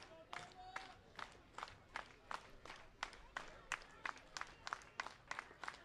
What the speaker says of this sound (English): The clap starts to rise here at Spillane.